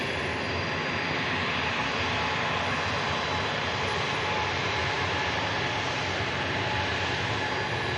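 An Embraer jet at Manchester Airport rolls along the runway onto a rapid exit, a steady, moderately distant engine roar and whine that holds constant with no voices.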